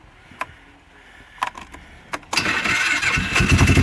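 Honda TRX400EX ATV cold starting on a weak, nearly dead battery: three short clicks or cranking attempts, then the engine catches and runs in a loud, rough, building idle close by.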